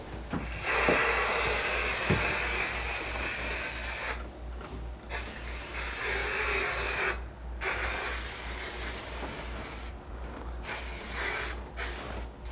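Grout sealer sprayed onto tile grout lines in loud, sustained hissing bursts, several long sprays separated by brief pauses, close up with no voices.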